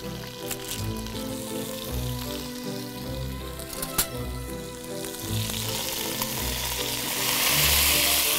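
Cod sizzles steadily in a pan with garlic and onion, a close, continuous crackling hiss punctuated by a few sharp clicks and utensil knocks.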